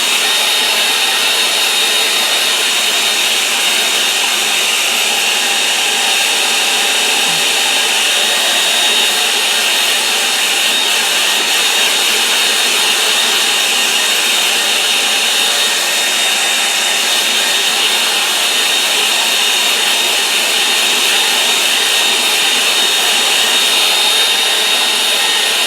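A hair dryer blows steadily over a watercolour painting, a loud constant whirring roar that holds unchanged throughout with no pauses.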